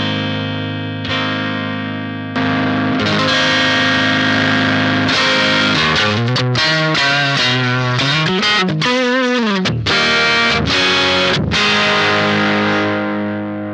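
Electric guitar played through an Electric Love overdrive pedal on its clean setting: loud, sustained chords and single-note runs with ringing harmonics, played alone with no talking.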